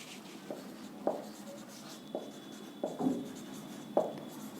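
Marker strokes on a board during a coordinate geometry lesson, a handful of short scratchy squeaks spaced irregularly over about four seconds, close and clear with no talking.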